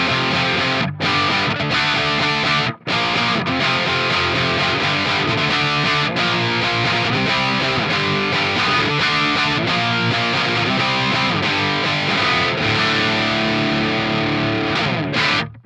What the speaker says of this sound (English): We'll switch over to the crunch channel of the amp and I'll try and get some dad rock style crunch out of this